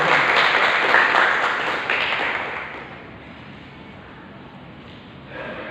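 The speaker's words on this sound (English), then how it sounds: "give her an applause for him" A university toastmasters club audience applauds an officer at an installation, a dense burst of clapping that fades after a few seconds before a little picks up again at the end.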